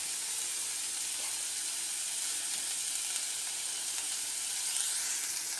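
Burger patty mixture of masala, onion and vegetables frying in a pan for a veg burger, giving a steady, even sizzle and hiss that holds throughout without pause; no voices.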